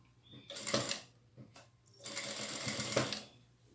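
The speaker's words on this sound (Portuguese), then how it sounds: "como a gente vai costurar aqui em cima dessa junção do zíper" Sewing machine stitching along a zipper seam joining satin and tulle for a party favor pouch, two bursts of motor whir with a short pause between, close and steady.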